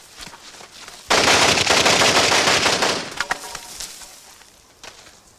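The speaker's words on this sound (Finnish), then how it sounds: "Kun yllättäen tuo vihollisen sala-ampujat ampuu teidät." Staged gunfire effect of enemy snipers shooting: a sudden loud burst of rapid automatic fire lasting about two seconds, then scattered sharp cracks and clatter fading out, with no talk.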